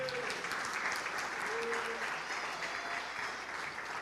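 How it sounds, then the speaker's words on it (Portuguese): A church congregation applauds at a Portuguese-language service, a dense, steady wash of many hands clapping that fills the whole stretch, with voices and faint tones mixed in underneath. "Aplauda o Senhor."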